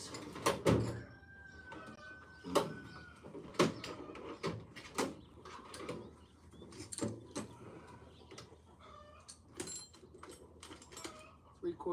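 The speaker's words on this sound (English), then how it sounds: "Let me check my drawers here." Workshop tool drawers slide open and shut in a search for wrenches, with clanks, sharp metallic knocks and jangling tools scattered through the stretch and a faint voice murmuring now and then.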